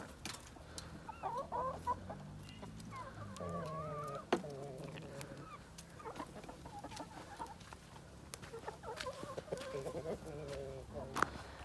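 Several chickens cluck continuously nearby, their overlapping calls rising and falling over a steady farmyard background.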